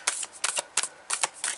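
A hard-to-shuffle tarot card deck is shuffled in several quick riffling bursts, crisp papery flutters repeating about every third of a second, close and alone without talk.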